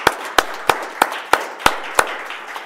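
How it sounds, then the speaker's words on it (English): Applause for event organizers at a talk on linguistic diversity, heard as crisp, close, evenly timed hand claps about three per second, loud and isolated against a quiet background, ending after a few seconds. "And so if we could give them a round of applause,"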